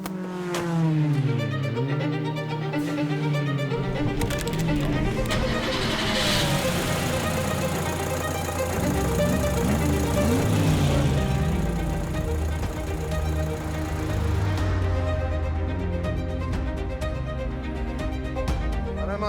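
A 1989 Porsche 911 3.2 drives on a public road, its air-cooled engine revving up and down through the gears, loud and close with steady road and wind roar throughout.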